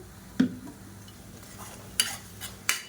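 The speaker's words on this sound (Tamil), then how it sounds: "வெங்காயம் நல்லா வதங்கிட்டு இருக்குது" Onions sautéing in oil in a pan for tomato thokku give a low, steady sizzle, broken by a few sharp clinks and scrapes of a spoon stirring against the pan.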